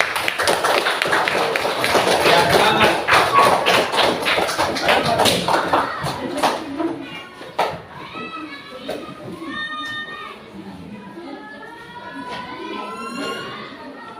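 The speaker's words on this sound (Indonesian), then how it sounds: "Tepuk tangan buat kelompok" Children in a classroom group clap and cheer for their group in a loud, busy burst of rapid clapping over several seconds, fading into chatter and children's voices with a few scattered claps.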